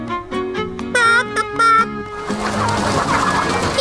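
A cartoon chicken clucks in a quick, bright run of notes, followed by a fuller burst of busy clucking against a musical background.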